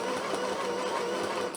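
Portable electric sewing machine stitching fabric, a steady fast mechanical whir and rattle running continuously up close, then stopping abruptly at the end.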